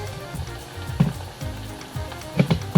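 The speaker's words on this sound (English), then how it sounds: "We're gonna fry one side, and then we're gonna put it upside down so they can fry the other side." Flat Colombian plantains frying in hot oil, a steady close crackling sizzle with scattered louder pops and spatters throughout.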